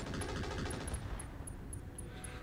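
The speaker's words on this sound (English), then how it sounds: "Shoot what we have left, which at this point it's only machine guns" Rapid machine gun bursts in the mech combat game Roguetech, a dense continuous rattle of automatic fire with sharp high clicks repeating throughout, loud and close with no talk.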